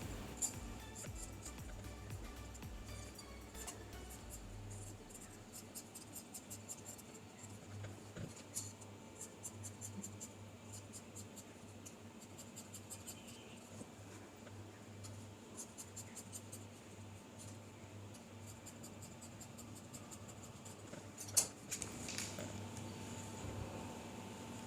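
Cloth for a kurti cut with scissors, heard as faint, quick runs of snipping clicks over a quiet room hum, with a single sharper knock near the end.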